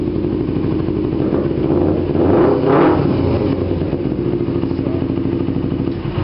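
A Kawasaki Ninja 250R motorcycle with a Dan Moto exhaust idles with a rough, throaty exhaust, then revs up sharply once and settles back to a loud, chugging idle.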